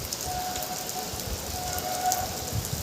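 Heavy rain pours steadily onto surfaces in a dense, continuous hiss, loud and close throughout with no voices.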